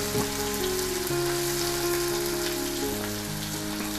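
Crushed onion and garlic frying in hot oil with popped mustard seeds, a dense steady sizzle that holds loud and close throughout with no voice over it.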